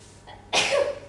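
A single sharp sneeze bursts out after a soft intake of breath, close and fairly loud, with a brief tonal tail.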